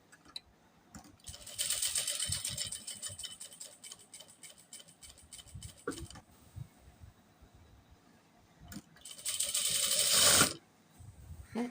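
A sewing machine stitches a churidar neck in two quick bursts of fast rattling, with a quiet pause between them where fabric is handled.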